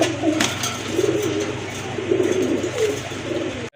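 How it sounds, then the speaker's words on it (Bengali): A pair of bright red Golla-Gorra cross pigeons coo nearby, with soft throaty rolling calls repeating in short bursts over faint background noise. "দেখতে পাচ্ছেন এখানে টকটকা লাল দেখার মতো এক জোড়া কবুতর"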